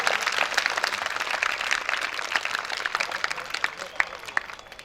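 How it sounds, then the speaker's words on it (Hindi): Audience applause at a Hindi religious gathering: dense, fairly steady clapping from a seated crowd with scattered sharper claps, moderately loud throughout. "जोरदार ताली बजाइए आप लोग।"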